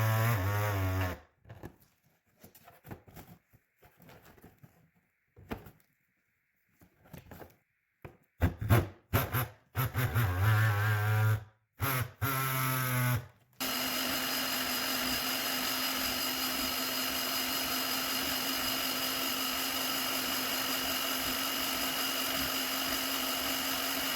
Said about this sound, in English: the bandsaw has actually worked better for trimming this back piece